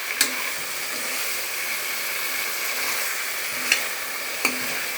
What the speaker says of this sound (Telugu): మ్యారినేట్ చేసుకున్న మటన్ని వేసుకోవాలి.